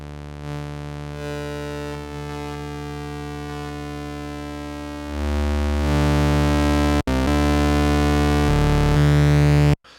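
A Moog synth bass patch with two sawtooth oscillators and a sub oscillator drones as a sustained buzzy tone, shifting pitch and thickening in layers, loud and alone, before cutting off abruptly.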